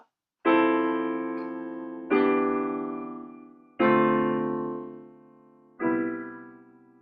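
Four lush R&B, neo-soul piano chords, each struck once and left to ring and decay, in a slow, relaxed progression with short gaps between them.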